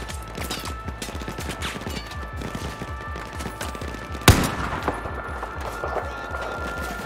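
Rapid bursts of Battlefield 4 gunfire rattle on continuously, with one sharper, louder shot standing out midway.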